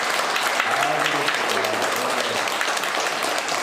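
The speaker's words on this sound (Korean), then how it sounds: "우리 4명의 청소년들에게 우리 큰 박수로 격려하겠습니다" A church congregation applauds four teenagers at a small-group lecture, steady dense clapping filling the room throughout with a faint voice beneath it.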